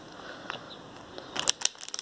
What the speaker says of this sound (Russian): Я уже пакетик открыла.